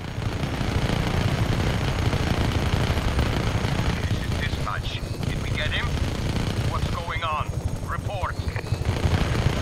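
Helicopter rotors and rapid machine-gun fire in the open-world action game Just Cause 3, a steady loud wash of rotor noise and gunfire with brief bursts of shots, continuous throughout.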